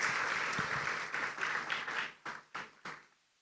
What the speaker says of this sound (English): May I request we give him another round of applause?